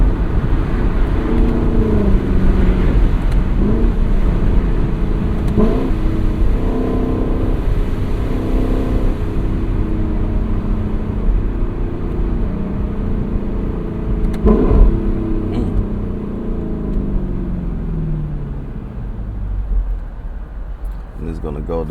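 A 2025 Lexus LC500 convertible V8 pulls away at dusk, its engine rising and falling through gear changes under steady road and wind noise, with occasional talk from the driver.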